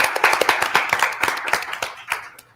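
Audience at a workshop claps, a burst of quick, moderately close applause that is strongest at first and then thins out and fades over a couple of seconds.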